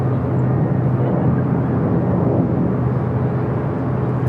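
An airliner takes off from runway 24 Left at LAX, heard as a loud, steady, broad jet roar that holds evenly throughout.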